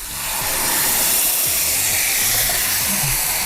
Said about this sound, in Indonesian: Goreng semuanya.